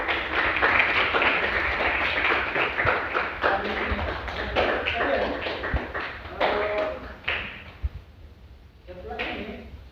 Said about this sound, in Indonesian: Kita berikan aplaus buat kerjasama kalian semua.